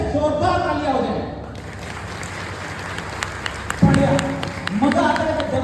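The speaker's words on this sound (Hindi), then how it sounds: "उस जीत के नाम पर अब तक की सबसे जोरदार तालियां हो जाए" Brief audience applause at a Bright Future seminar in Tikamgarh rises between stretches of amplified speech from a man on stage, with the clapping cluster sitting in the middle and talk resuming after.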